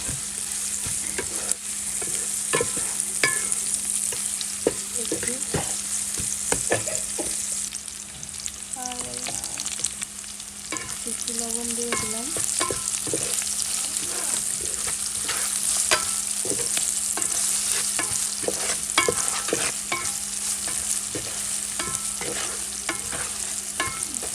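Onions and chilies frying in a pan and being stirred, the start of a lete fish curry: steady close sizzle throughout with repeated scraping stir strokes, no voices.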